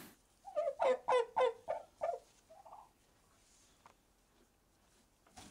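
Rescued chickens at a farm sanctuary make a close run of loud, rhythmic clucks and gobbling calls in the first two seconds. A quieter call follows, then near silence.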